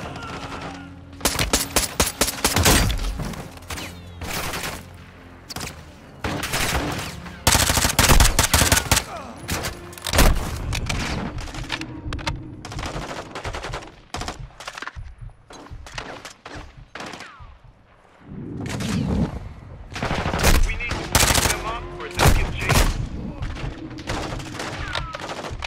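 Repeated bursts of automatic and single-shot gunfire from the video game Call of Duty: Modern Warfare II, loud and close, in clustered volleys with short lulls between them, over a constant background of game ambience.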